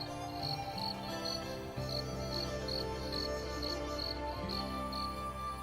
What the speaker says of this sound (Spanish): En ese hueco, un grillo marrón pinta y canturrea.